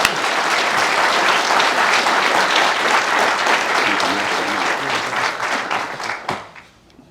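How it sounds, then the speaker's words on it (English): Sustained applause from an audience honoring South Carolina Highway Patrol award recipients, with dense steady clapping filling the room before it tapers off and fades near the end. "Let's give all the recipients again a big round of applause."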